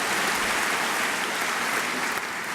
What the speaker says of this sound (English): maybe we can give him a round of applause in his absence